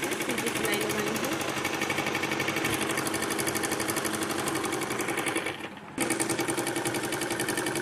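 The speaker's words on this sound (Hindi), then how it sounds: "ये हम इसी तरीके से सीधी सिलाई लगाएंगे।" A sewing machine stitches a straight seam on a Patiyala salwar in a loud, rapid, steady run. It pauses briefly near the end and then resumes, with a voice faintly in the background.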